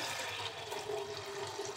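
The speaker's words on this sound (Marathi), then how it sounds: "म्हणजे डाळ 1 कप आहे तर आपल्याला 3 कप पाणी घालायचं आहे." Water is poured into cooking lentils, a short steady splashing gush heard close up with no talk over it.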